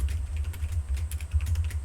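Fast, light tapping on a computer keyboard, with a rapid, irregular run of clicks over a low steady hum, close and fairly quiet, and no voice present.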